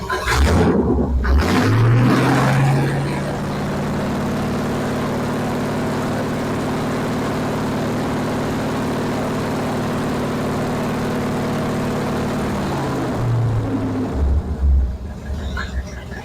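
Car engine fitted with a Progression ignition, idling near 600 RPM and then revved in a few short bursts, the drone rising and falling before settling back to idle.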